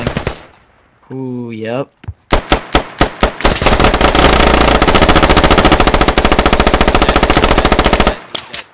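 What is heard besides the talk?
AK rifle gunfire in the video game Squad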